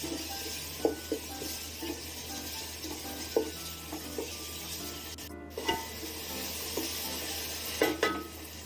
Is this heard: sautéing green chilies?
yes